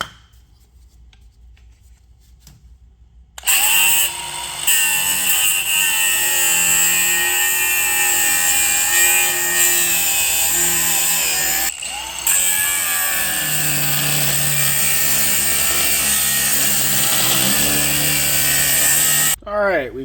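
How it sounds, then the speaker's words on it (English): A power tool cuts welds on a Honda Pilot during an engine swap, giving a loud, steady, high-pitched grinding whine that runs almost continuously with one short break and changes pitch slightly as it bites, while a voice talks over it. "time to cut some welds out"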